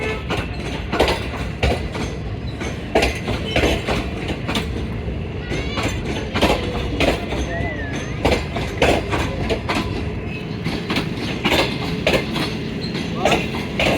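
The Shalimar Express rolls along the rails with steady clickety-clack wheel beats and a continuous rumble of carriages, heard close up from on board. Faint voices and occasional squeals rise over the train noise.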